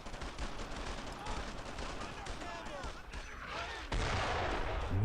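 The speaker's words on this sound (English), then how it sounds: "So now there's the mortars." Mortar and gunfire in the WWII shooter Brothers in Arms: Earned in Blood, with continuous rattling shots and heavier blasts under steady battle noise, rising to a louder burst near the end as someone talks over it.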